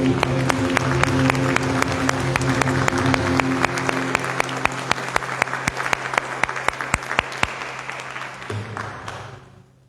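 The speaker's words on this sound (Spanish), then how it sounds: "Fuerte palmas para el Rey de Reyes" A church congregation breaks into loud, sustained applause, with some sharp individual claps standing out rhythmically over the dense clapping before it tapers off at the end.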